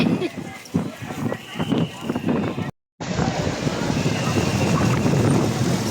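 Strong wind buffets the microphone with a loud, steady roar in Divisoria, Manila, briefly cutting out before resuming, while someone talks in Filipino at the start.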